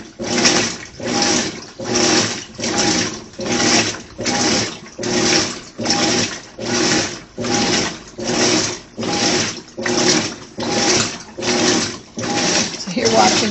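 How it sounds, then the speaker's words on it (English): A Maytag Bravos top-load washing machine agitates clothes in a steady back-and-forth rhythm, each swish rising and falling about every 0.8 seconds, loud and close with no talking over it. "You're watching my washing machine wash my clothes."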